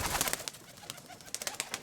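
Soft, close cooing and fluttering from roller pigeon cocks in a loft box, with brief irregular bursts of wing and movement noise between the low calls.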